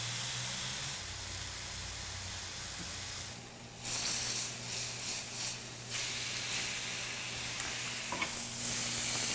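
Beef searing in a hot pan makes a steady, dense sizzle and hiss, briefly dipping and then swelling again as the meat is shifted, with no talking.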